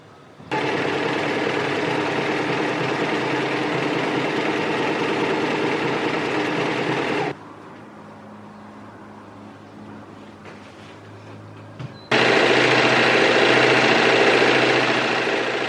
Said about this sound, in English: Once all of the seams were serged